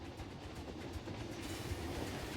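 Trains rumble along the track in Planet Coaster 2, a dense, continuous roar with a faint rhythmic clatter, heard close and loud with no talk over it.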